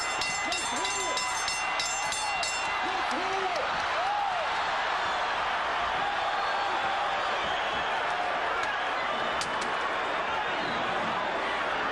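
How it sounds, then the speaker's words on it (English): A boxing arena crowd at the Riddick Bowe vs. Evander Holyfield rematch rises into a loud, sustained roar of cheering and applause, with a voice audible early on. "Crowd rises to its feet."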